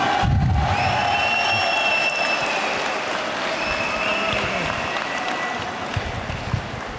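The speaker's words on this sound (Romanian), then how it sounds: "un rând de aplauze pentru cei doi giganți din MMA-ul românesc" A crowd at a Romanian MMA gala applauds and cheers steadily in a large arena, sustained clapping with a few high whistles and shouts carrying over it.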